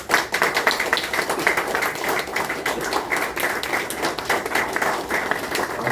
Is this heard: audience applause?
yes